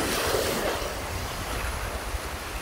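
Waves of the Baltic Sea breaking on the shore at Ķesterciems, Latvia, a steady close wash of surf mixed with wind buffeting the microphone, no voices.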